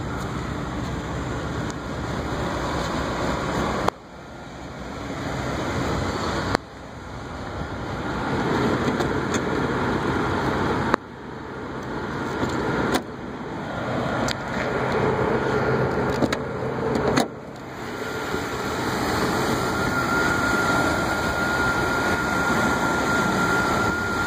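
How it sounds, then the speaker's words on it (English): A Mercedes-Benz armored car with a V12 engine runs steadily, a continuous broad engine rumble with several abrupt shifts in level, no talking over it. "Beautiful V12."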